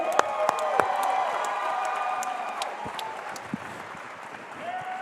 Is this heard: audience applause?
yes